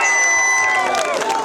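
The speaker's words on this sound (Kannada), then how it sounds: "ಸಾಹೇಬ್ರಿಗೆ ಜೋರಾದ ಬರಲಿ ಚಪ್ಪಾಳೆ" An audience at a Kannada village stage play breaks into loud cheering and clapping for a police officer, a brief, dense crowd roar with ringing tones over it.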